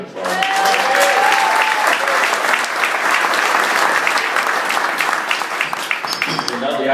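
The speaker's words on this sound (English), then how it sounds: "let's give another round of applause" Sustained applause from a dinner crowd at a St. Patrick's Day grand marshal dinner held by the Nutley Irish American Association, dense steady clapping filling the room for the full stretch, with voices and cheers mixed in.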